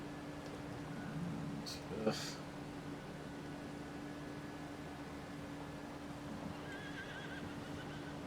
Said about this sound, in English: My horsey.